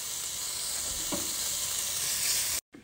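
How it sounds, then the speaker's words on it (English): Pancetta sizzling steadily in a pan, a constant bright crackle with a brief soft stir scrape midway, close and moderately quiet before cutting off abruptly. "First we're going to start cooking and stirring your pancetta."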